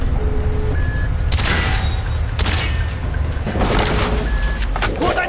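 Gunfire in Call of Duty Black Ops, loud and close: bursts of shots break out around 1.3, 2.4 and 3.6 seconds over a steady rumble of battle noise, and a few sharp cracks follow near the end.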